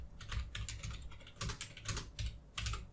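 Keys clatter on a computer keyboard in short, uneven bursts of typing, close and fairly quiet, with brief pauses between groups of strokes and no talk over them.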